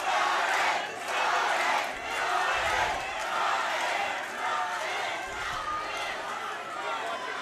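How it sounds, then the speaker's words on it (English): An arena crowd at a grappling fight between Ryan Sanders and Jonathan Piersma roars and cheers in continuous waves, a dense, loud wall of voices that swells and dips, with commentators talking over it. "The crowd is trying to send some energy his way."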